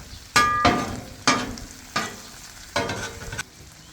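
Cheese sizzles on a flat-top griddle while a cheesesteak is made, with a spatula scraping and stirring in five or six distinct strokes over a steady close sizzle.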